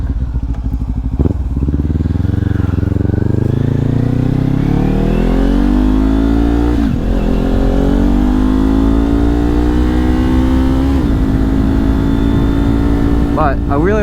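A 2022 Kawasaki Ninja 400 KRT motorcycle revs up loud and close on a rainy test ride, climbing in pitch through the gears with brief drops between shifts, under steady wind rush.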